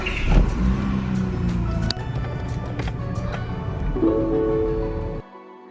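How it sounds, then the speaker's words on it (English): A car engine runs and idles up close at an airstrip, with a few clunks and a brief rise in revs before it cuts off abruptly. "Let me move my 4 cars to get to my plane."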